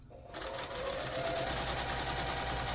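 A sewing machine runs steadily and close, stitching a quarter-inch seam on a fabric table runner as a continuous even whir.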